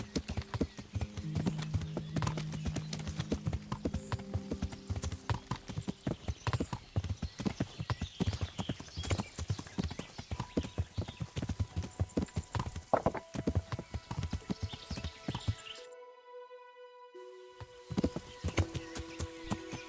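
Horse hooves clip-clop in Kingdom Come: Deliverance, a steady, close rhythmic trot of sharp strikes running nearly twenty seconds, broken by a brief silent gap near the end, with occasional whinny-like tones and game music notes.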